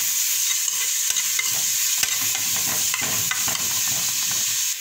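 Tomato stirred in a pan with onion, garlic and pepper for a red noodle sauce, a loud continuous sizzle with occasional scraping strokes of the spoon, close, with no voices.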